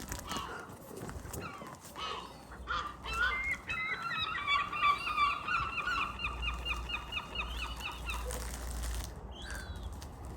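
Poultry call out at feeding time in a rural yard, with several overlapping honking, squawking calls rising over steady outdoor background noise for much of the stretch. The calls sound moderately distant.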